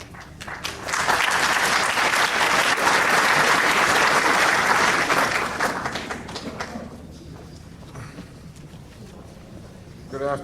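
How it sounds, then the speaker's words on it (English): An audience at a Chamber of Commerce candidates' meeting breaks into steady, full applause that holds for several seconds, then tapers into scattered claps before a voice begins speaking. "at which point I ask that the audience join us in a round of applause for the candidate"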